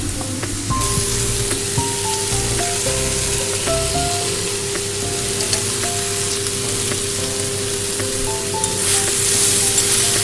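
Fried potatoes go into a hot pan for Bengali chhanar dalna, giving a dense, loud, continuous sizzle with scattered clinks and stirring knocks, close up and with no one talking.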